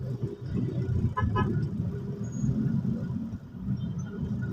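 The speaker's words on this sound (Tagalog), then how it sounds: "Makapal ang volume ng mga sakyan dito. Traffic siya, no?" Dense road traffic on a busy city avenue keeps up a loud, steady engine rumble, with a couple of short car-horn toots cutting through early on.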